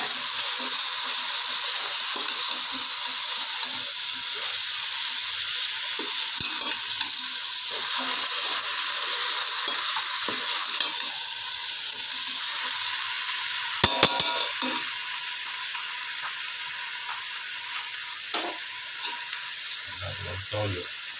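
Pork ribs and chicken fry and get stirred in a pan, giving a steady close sizzle with scraping stirs throughout and a few light clinks.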